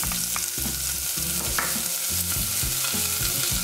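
Onions fry in hot oil in a small saucepan, a steady sizzle with rhythmic scraping and stirring thumps of a utensil against the pan, close and busy.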